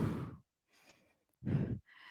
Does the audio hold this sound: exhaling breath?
yes